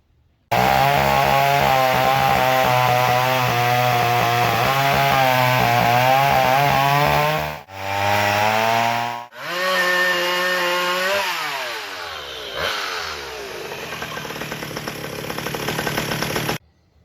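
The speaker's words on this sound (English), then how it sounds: "we're going to discuss McCulloch's first direct drive chainsaw" A McCulloch direct drive chainsaw engine roars loudly up close, revving and bogging with brief dips, then settling into a high buzzing run before shutting off.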